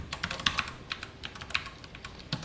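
Rapid keystrokes on a computer keyboard while entering Python code, coming in short uneven bursts of light clicks with brief pauses, fairly close and alone without any talk.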